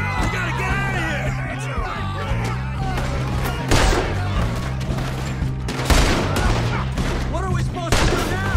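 Gunfire in Red Dead Redemption 2 during a frantic shootout, scattered shots cracking out amid shouting voices and busy game noise, fairly loud and close.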